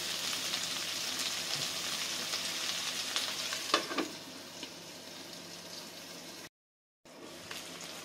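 Carrots fry for pansit in a pan with a soft, steady sizzle and crackle. A few louder spatters and stirring sounds break in, the sound cuts out for a moment near the end, and no one speaks.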